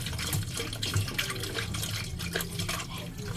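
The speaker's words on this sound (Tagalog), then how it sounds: "Ganyan po, buhos nyo po yung tubig." Water splashes and runs steadily as it is poured over washed dishes into a sink, with small clinks and drips close by and no talking.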